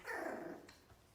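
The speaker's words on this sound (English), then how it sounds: "what a little puppy" A puppy growls softly while playing with a kitten, a low rumbling snarl that swells and then fades, fairly quiet and on its own.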